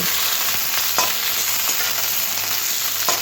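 Chopped onion and capsicum fry in hot oil for chilli baby corn, a constant close sizzle broken by several sharp clinks and scrapes of stirring, with no talking.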